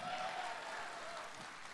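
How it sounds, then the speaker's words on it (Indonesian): An audience at a stand-up comedy show claps in a steady, dense wash of applause, fairly faint and even throughout the short moment. "tepuk tangan."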